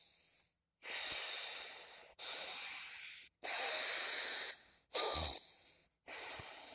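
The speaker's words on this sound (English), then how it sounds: "You could do the pranayama, which is the breathing where you cover one nostril, breathe in, breathe out." Alternate-nostril pranayama breathing: a series of five or six loud, close, airy breaths through one nostril, each lasting about a second, separated by short pauses, with a slightly congested nasal hiss and no talking.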